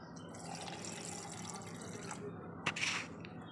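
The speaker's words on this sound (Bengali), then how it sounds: "কিছু জল দিয়ে দিলাম" Water poured into a lucky bamboo plant pot, a soft, quiet trickle and splash that runs steadily with a brief sharper spatter near the end, heard up close and alone.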